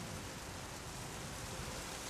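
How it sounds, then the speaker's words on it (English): Heavy, drenching rain pours in a dense, steady roar that stays even and unbroken throughout, with no voices over it. "Heavy, drenching rain slowed them down."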